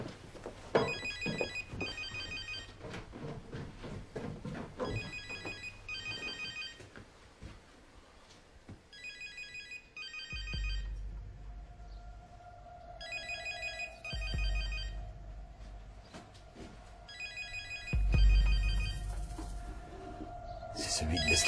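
A mobile phone rings downstairs in a house, its electronic ringtone repeating in bursts, heard at a distance amid footsteps and room noise, with a few quiet voices.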